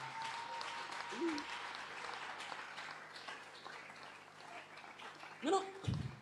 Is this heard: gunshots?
no